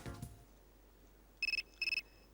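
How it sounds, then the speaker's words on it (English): A phone ringing in Persona 3 FES, two short bursts of a bright electronic ring, each a quick run of four pulses, clear and alone against quiet game background. "Another phone call."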